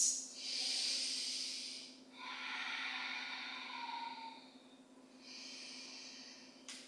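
Deep, steady breathing through a held yoga pose, long airy inhales and exhales in a slow rhythm, close and fairly soft over a faint low hum.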